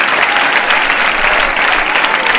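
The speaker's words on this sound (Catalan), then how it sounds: "Aplaudim per la benvinguda." A crowd applauds a welcome at the opening speech of the CE Mercadal football club's Sant Martí 2022 event, loud, dense, continuous clapping close by with no pause.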